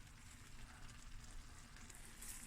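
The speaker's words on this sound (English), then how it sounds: "There's the rotis frying away." Rotis fry in a pan with a faint, steady sizzle and soft crackle that stays even throughout, with no talk over it.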